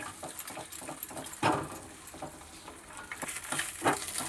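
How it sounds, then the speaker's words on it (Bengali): Two eggs frying with a little salt in a pan give off a steady crackling sizzle with brief louder spattering bursts, close and fairly quiet, with no talking. "দুটো এগকে আমি একটু সামান্য লবণ দিয়ে ফ্রাই করে নেব।"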